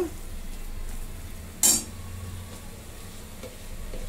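Masala roasts in a little oil in a pan over a low flame for spicy mutton rassa, a steady soft sizzle broken by one sharp clank of the stirring spoon against the pan, close and without speech.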